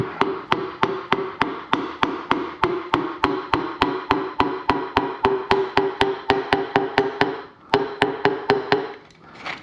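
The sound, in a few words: hammer tapping part on Volvo Penta 3.0 engine rebuild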